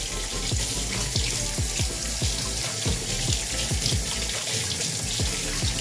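Tap water runs steadily into a sink while butchered quail are rinsed, a continuous close splashing stream with irregular thumps and gurgles as the birds are handled under it.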